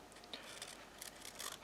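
Scissors make slow, careful cuts through paper while a snowman shape is trimmed out, giving a few faint, short snipping and rustling bursts at close range.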